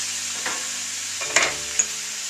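Steak for fajitas frying in a pan with olive oil, a steady close sizzle with occasional stirring scrapes and a couple of light clinks, no talking.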